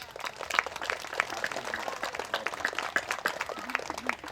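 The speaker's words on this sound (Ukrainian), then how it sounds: "оплески Русланові" Audience applause at a Ukrainian festival talk, a moderate, loose patter of many hands clapping continuously at a fairly distant, reverberant level.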